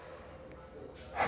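Deep breathing during a seated floor mobility workout: a soft, steady breath that swells into a louder, breathy rush near the end, close to the microphone with no talking.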